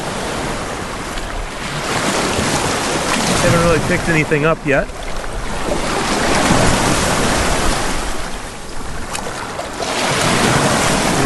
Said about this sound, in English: Pretty hard to see because the waves are fairly big.